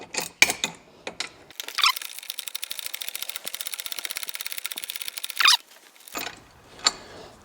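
A 17 mm ratcheting wrench works an engine bolt loose on a 295cc Robin EH-29C engine in an EZGO TXT golf cart, giving a long run of rapid, close ratchet clicks between a few louder metallic clanks.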